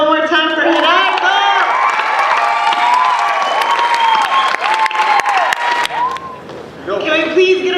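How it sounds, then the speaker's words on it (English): A spoken word show audience gives a poet sustained loud applause and cheering with whoops and shouts, the clapping steady throughout and voices rising over it. "Can we please get a round of applause for our poet?"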